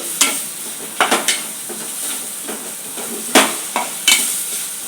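Dry tamarind leaf powder frying and being stirred in a pan, with a steady soft sizzle under repeated sharp scraping strokes of a spoon against the pan, fairly close and moderately loud.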